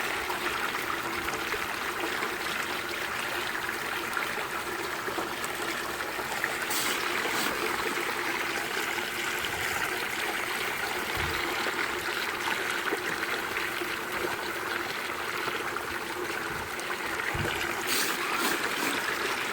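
Water and gravel material running through a gold sluice fitted with a dream mat, giving a constant close rushing and trickling wash with occasional clunks and splashes.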